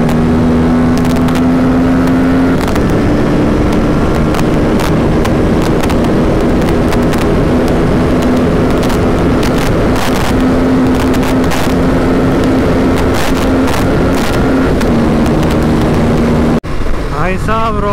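Aprilia RS457 motorcycle fitted with an Akrapovic exhaust, ridden on an open road: a loud, steady engine drone runs nearly throughout with shifting pitch, buffeted by wind, cutting off abruptly near the end.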